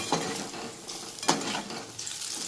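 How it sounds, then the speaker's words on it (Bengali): Bursts of sizzling and crackling as potatoes fry in a hot pan, with occasional stirring scrapes in between. "এভাবে আলু ভাজা করতে হয়"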